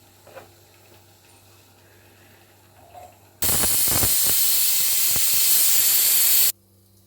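A loud, steady hiss of steam bursts from a pressure cooker for about three seconds, then cuts off abruptly, with quiet kitchen background before and after.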